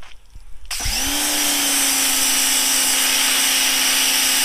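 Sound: 1600 PSI pressure washer spraying baseball pants

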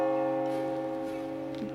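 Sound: huge metal temple bell ringing, Kushinagar

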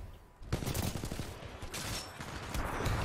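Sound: gunfire in the Titanfall 2 video game

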